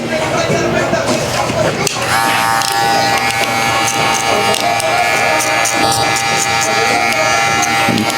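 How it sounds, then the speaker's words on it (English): A Babyliss cordless hair clipper runs with a constant close buzzing hum during a low-fade haircut, with talking and other sound layered over the drone. "This is one of my favorite cordless clipper right now, the Babyliss by Nicole."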